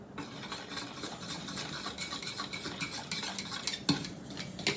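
A spoon stirring a thick barbecue sauce mixture with jelly in a bowl, a close, continuous rhythmic scraping and sloshing with one sharp clink near the end, no talk.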